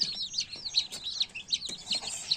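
Baby chicks peep in rapid, high-pitched chirps, several overlapping close by, with faint soft thumps underneath.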